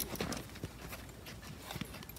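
A horse walks forward under a rider, its hooves clip-clopping in a soft, irregular rhythm. The steps are faint and sound outdoors, with no talking.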